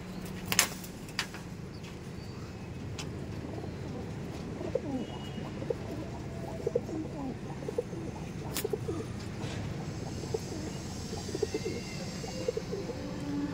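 Pigeons kept for sale cooing in a low, continuous murmur, with scattered clicks and knocks from the coop nearby, steady throughout and without clear talk.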